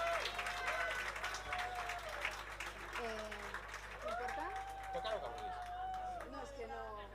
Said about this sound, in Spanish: Un aplauso para Marina.